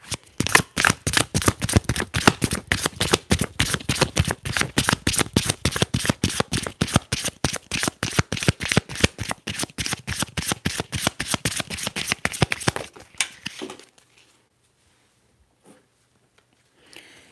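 A deck of tarot cards is shuffled in a fast, close, crisp run of rapid flutters and clicks for about thirteen seconds, then stops abruptly and near silence follows.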